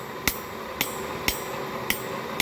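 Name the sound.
hammer striking a chisel on steel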